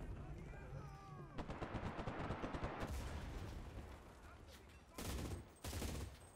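MG42 machine gun in the World War II shooter Enlisted, firing long rattling bursts at very high cyclic rate with brief pauses between strings, loud and close, with other gunfire and battle noise around it.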